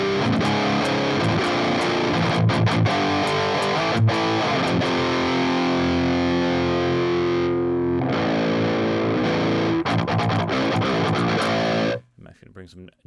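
Electric guitar played through a Boss overdrive distortion pedal with a modern metal tone, thick sustained distorted chords and riffs ringing loud and continuous for about twelve seconds before cutting off abruptly.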